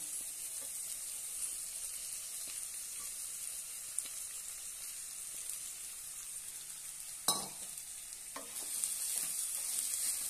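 Washed poha for sweet corn poha sizzles and hisses steadily as it is stir-fried in a pan, with occasional scraping clinks of the spoon against the pan, close and continuous.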